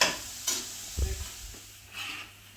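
Onions frying and softening in a pan for a restaurant-style chicken tikka bhuna: a quiet hiss of sizzling with a few soft stirring knocks and scrapes.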